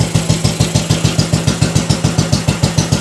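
A custom bobber motorcycle engine idles steadily up close, a loud, even thumping pulse repeating at a fast regular rhythm with no talk.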